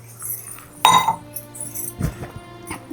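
Dishes and pots clink together in a kitchen sink, with two or three sharp, bright knocks of metal and crockery over a quiet background.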